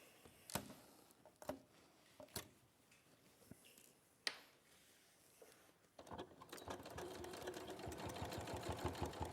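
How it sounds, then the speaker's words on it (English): A sewing machine stitches down the two sides and across the bottom of a flat fabric pouch. After a few sharp clicks and taps it settles into a steady, fast whirring run of stitches that grows louder toward the end. "So we're going to just sew down the 2 sides and across the bottom."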